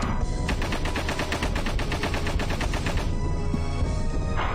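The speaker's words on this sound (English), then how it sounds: "Just gonna try to shoot as much as possible right now." Rapid gunfire blasts at enemies in the retro game Alisa, a loud, steady stream of fast repeating shots for several seconds, then a short pause and a fresh burst, with no talking.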